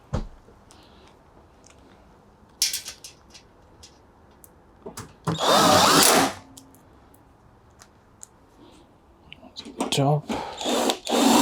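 A power drill drives screws into a Bosch washing machine in short whirring bursts, one longer loud burst in the middle, with clicks and handling knocks between them.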